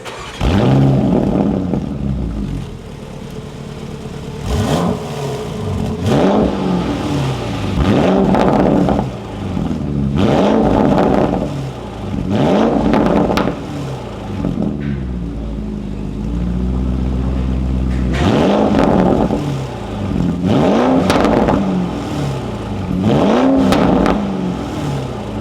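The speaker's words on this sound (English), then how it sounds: "I'm gonna go ahead and start it up for you guys so you hear it." A Ferrari 458 with a loud exhaust revs hard in a series of about seven sharp bursts, each rising and falling, close and very loud over a steady idle.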